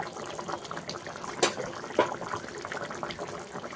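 Bengali aila (mackerel) fish curry bubbling in a pan as a soft, steady simmer with occasional small pops and splashes, close and without speech.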